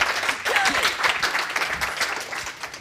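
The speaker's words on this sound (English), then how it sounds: "Can we give her a clap?" An audience claps steadily at the close of a talk on scaling a data science product, a dense, even patter of applause filling the room from start to finish, with no one speaking over it.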